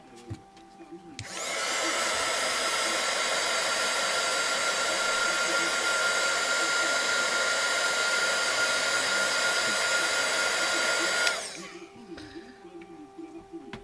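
A hair dryer blows steadily for about ten seconds to dry homemade Gelatos-style ink spread on scrapbook paper, switching on loud and close, holding an even whoosh, then cutting off abruptly.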